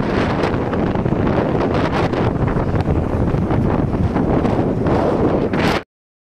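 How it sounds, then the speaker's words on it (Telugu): Strong wind roars loudly and continuously into the microphone during a journey from Hyderabad, a dense rushing blast that cuts off abruptly near the end. "అది గాలే కాదు భయంకరంగా గాలి వస్తుంది."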